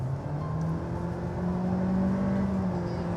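A 2022 Honda Civic sedan with a continuously variable transmission accelerates, its engine holding a steady, droning hum with a faint whining tone that stays level rather than climbing through gears, heard from inside the car.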